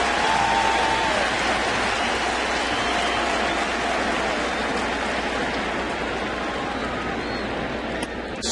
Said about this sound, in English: Standing ovation for Ludwig